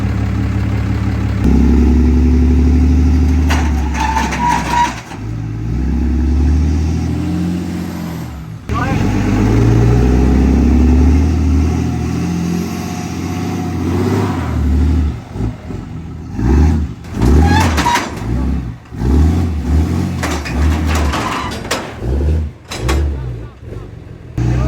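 A big custom show truck revs and strains as it climbs a ramp onto a trailer, engine surging in uneven bursts with clunks and air-brake hisses, people talking loudly over it throughout.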